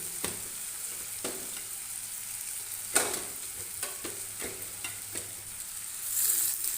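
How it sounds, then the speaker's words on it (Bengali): Boiled potato and spices frying in a pan on high flame for an egg-potato dish: a continuous close sizzle, broken by regular scraping knocks of a spatula as the mixture is stirred. "এবার ভালো মতন এই সিদ্ধ আলুটার সাথে এই মশলাটা কষিয়ে নেব"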